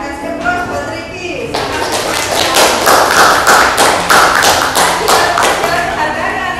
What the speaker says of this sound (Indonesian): Kasih aplaus buat Riki.